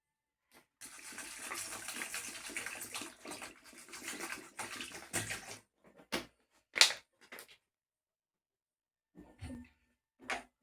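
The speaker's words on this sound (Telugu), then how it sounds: "సో దీన్ని కొంచెం వాష్ చేసేద్దాం సో కొంచెం వాటర్ పోద్దాం" Water pours steadily for several seconds over silver items being washed, then a few short splashes and clinks follow with quiet gaps between them.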